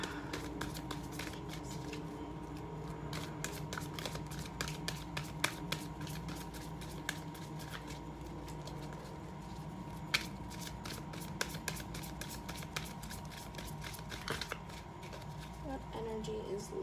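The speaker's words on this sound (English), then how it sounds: "Let me just pull another card out, or a couple more out." Tarot cards shuffled and drawn from a deck during a pick-a-card reading, a steady stream of soft riffling and flicking clicks running throughout, close and moderately loud, with scattered sharper snaps.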